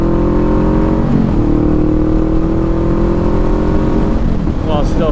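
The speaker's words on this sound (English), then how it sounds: "If I want to accelerate harder, I can shift sooner." A motorcycle accelerating hard on the road, its engine note rising steadily and then dropping as it shifts gears, loud and close with constant wind and engine roar while a rider talks.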